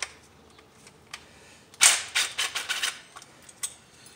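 Ratcheting socket wrench on a 10 mm bolt at an ignition coil of a 2003 Nissan Sentra, a quick close burst of sharp clicks in the middle, then a few scattered taps.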